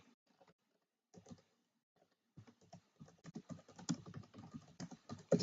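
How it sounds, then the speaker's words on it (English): Quick, uneven computer keyboard typing, sparse taps at first and then a dense, steady run of keystrokes, close and fairly quiet with no talking. "I'm typing back here."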